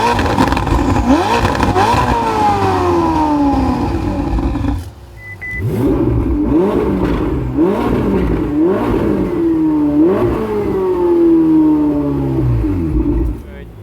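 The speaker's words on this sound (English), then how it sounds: "The exhaust note sounds good." A Ferrari's exhaust blares loudly and close as the engine revs up repeatedly, rising in pitch through several gear pulls with a brief dip around the middle.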